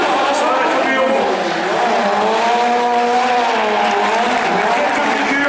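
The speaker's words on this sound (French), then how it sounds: "The car is going to make all those different figures, 360s, 180s" A stunt car spins through 360s and 180s to warm fresh tires in a stunt show arena, its engine howling and rising and falling in pitch with tire squeal, under crowd noise and a voice.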